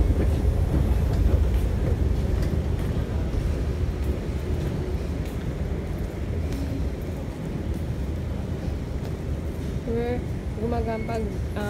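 Inside a Singapore MRT train, a steady rumbling roar of wheels and motor runs throughout at close range, while people talk over it and a short rising electronic tone sounds near the end.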